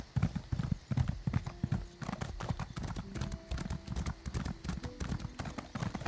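Horse hooves clip-clop in The Elder Scrolls Online, a brisk, even rhythm of hoofbeats heard up close and continuing through the whole stretch with faint game sounds behind.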